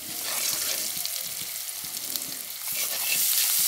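Ginger-garlic paste sizzles in a pan with browned onions, a bright, continuous frying hiss broken by soft scraping stirs that repeat irregularly and swell toward the end.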